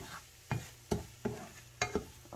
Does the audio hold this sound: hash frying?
yes